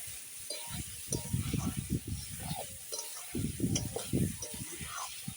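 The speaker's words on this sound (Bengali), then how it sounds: "মশলাটা ভালো করে কষিয়ে নিচ্ছি" Spice paste being sautéed and stirred in a pan for a rohu fish curry with potato and cauliflower, giving bursts of scraping and sizzling in irregular rhythm, moderately loud and close, with no talking.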